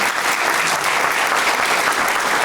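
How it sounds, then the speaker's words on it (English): Steady, dense applause from an audience at a college athletics hall of fame ceremony, continuous clapping filling the room with no pause. "Let's have a round of applause for Korey."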